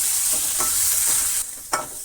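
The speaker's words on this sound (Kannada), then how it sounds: "ಈರುಳ್ಳಿ ಕೂಡ ಚೆನ್ನಾಗಿ ಬೇಗ ಫ್ರೈ ಆಗುತ್ತೆ" Onions fry loudly in a pan for a masala dosa filling, a steady broadband sizzle with a couple of brief stirring scrapes and a sharper clink near the end, with no voices.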